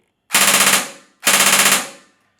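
Two loud, sharp blasts from a custom toy blaster about a second apart, each with a crackling rattle that rings out and fades, close and alone.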